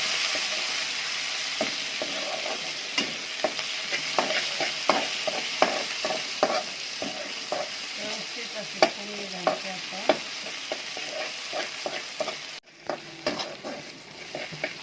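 Tomato, onion and garlic frying in a pan for chawli bhaji, a continuous sizzle broken by frequent scrapes and clinks of a stirring spoon, heard up close.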